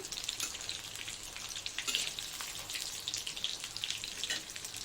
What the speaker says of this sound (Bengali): এই যে বাকিটা ভাজা হচ্ছে